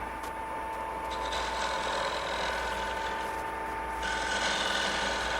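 A turning tool rubs gently against a spinning wooden bead on a furniture-turning lathe, almost sanding it, producing a steady, close rasping hiss over the lathe's constant hum, with a slight brightening toward the end.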